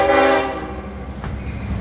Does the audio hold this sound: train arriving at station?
yes